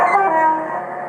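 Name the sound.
model train horn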